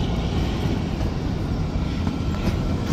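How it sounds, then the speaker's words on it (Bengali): Kalka Shimla toy train, a narrow-gauge heritage railway, pulling away from a hill station, giving a steady close rumble of rolling wagons that holds loud and even throughout. "ট্রেন কিন্তু ছেড়ে দিল।"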